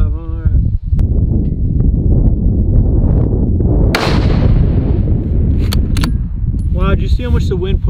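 A rifle shot rings out once during a coyote hunting tournament, a sharp crack midway through steady outdoor rumble, with voices talking near the start and end.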